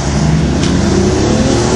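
A BMW M3 with a turbo kit eases out into traffic on the clutch, its engine giving a loud, steady low drone with a constant rumble and no sharp revving, heard up close from inside.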